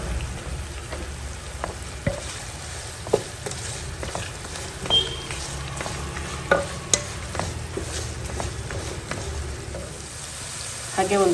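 Stir-frying in oil with salt and a little turmeric powder, a constant sizzle broken by repeated spatula scrapes and clinks against the pan, close and fairly loud, with no talking.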